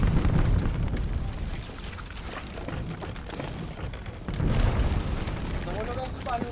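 Rumbling explosion blasts in the pirate game Sea of Thieves, dense low booms and debris across the clip with a louder burst near the end, heard under voices talking over the chaos.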